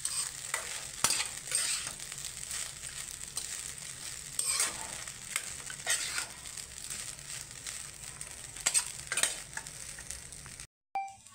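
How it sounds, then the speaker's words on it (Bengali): Chira pulao (flattened rice) with garam masala powder being stirred in a pan over low heat, soft scraping strokes over a faint steady sizzle, fairly quiet and close, a few louder scrapes spaced through. "একটু গরম মশলা পাউডার দিয়ে আমি একটু নেড়ে নেব।"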